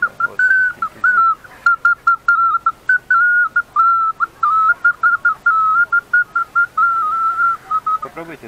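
A small bird-shaped whistle produces a high, warbling trill, rapidly pulsed in short bursts and broken by brief pauses, clear and close with little else around it.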